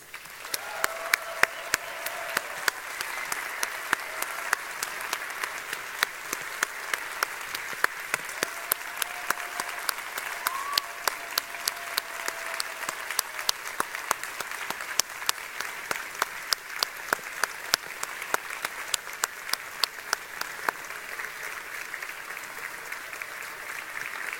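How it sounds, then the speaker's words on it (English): Sustained applause from an award ceremony audience honouring winners and students, a steady dense patter of many hands clapping at moderate distance, with a faint voice murmuring early on and the sound staying even throughout. "let's have a last round of applause for all our winners and for all the rest of the students"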